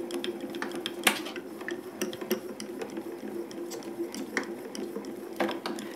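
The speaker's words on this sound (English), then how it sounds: "we're going to run it through the grand caliber" A Grand Calibur die-cutting and embossing machine being hand-cranked, a continuous run of close ratcheting clicks and gear rattle with a few sharper knocks.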